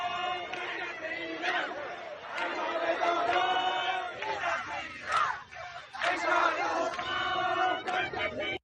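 A large crowd of protesters in Iran chants in rhythmic waves, loud and fairly near, with shouted bursts rising and falling over a murmur of crowd noise.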